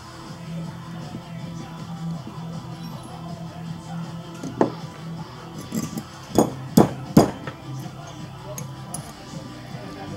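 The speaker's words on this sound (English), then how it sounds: "Always use a hammer." A hammer taps on a gun part while a spring is being refitted in a gunsmith's workshop, giving a few sharp metallic strikes near the middle and later part, with a steady low hum behind them.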